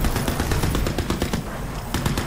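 Rapid automatic gunfire from the Crysis 3 video game, loud, dense bursts of shots rattling continuously with near-constant intensity, no talking.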